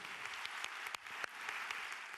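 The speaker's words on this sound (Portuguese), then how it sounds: "um aplauso para eles" Church congregation applauding, a dense continuous patter of many hands clapping with a few sharper louder claps standing out, steady across the whole moment and without talk.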